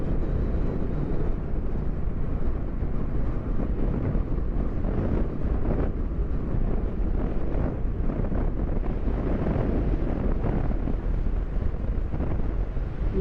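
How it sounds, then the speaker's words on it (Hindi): Strong wind roaring through a high valley on the road between Pangong Lake and Hanle in Ladakh, a continuous loud rushing buffet across the microphone with no break for over ten seconds. "बहुत ज़्यादा हवा चल रही है।"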